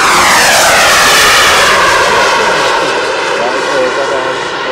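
An Airworld Hawker Hunter kit-built jet model at 1:5 scale runs its turbine at a German jet scale championship, a loud, close, continuous whine and roar that eases slightly toward the end.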